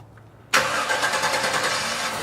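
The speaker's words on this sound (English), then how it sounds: "next we're going to start our engine, but you want to make sure you start with a cold engine" A cold car engine cranks and catches after half a second of quiet, then settles into a loud, steady idle that runs to the end.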